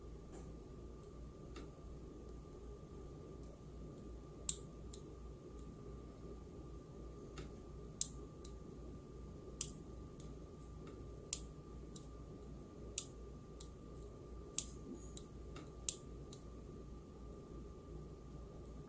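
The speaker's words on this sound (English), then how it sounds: "the left one has the silver micro switch in it, and the right one has the MX cherry blue switch" Gamerfinger arcade buttons, one fitted with a silver micro switch and one with an MX Cherry Blue switch, pressed one at a time as sharp isolated clicks at an uneven pace over a quiet, steady background hum.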